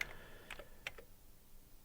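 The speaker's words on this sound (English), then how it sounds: "by typing make dir modules" A few sharp keystrokes on a computer keyboard as a command is typed into an Amiga CLI, faint and sparse over a low background hiss with no talking.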